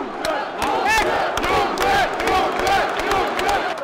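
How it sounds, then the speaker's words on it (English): Crowd at an Oktagon 44 MMA fight roaring and cheering wildly, a loud, continuous swell of shouts and yells rising in bursts throughout. "The crowd are going wild."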